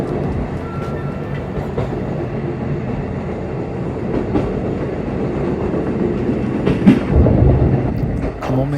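A JR Hokkaido train runs along the Hanasaki Line near Akkeshi, giving a steady, loud rumble with rhythmic rail clatter that swells slightly toward the end, with no voices.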